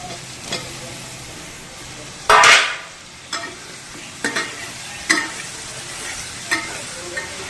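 Potatoes drop into a hot pan with a loud burst of sizzling, then keep frying under a quieter hiss while a spatula scrapes and stirs several times nearby.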